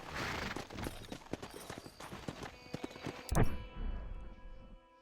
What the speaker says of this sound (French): ma cheval qui sait pas nager